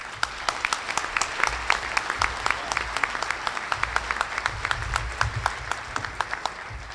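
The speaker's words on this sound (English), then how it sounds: "Please give a big Rooster booster round of applause to Commissioner Quarles." An audience at a Rooster Booster morning gathering claps for a commissioner, dense steady applause filling the room for about seven seconds, moderately loud with no talking.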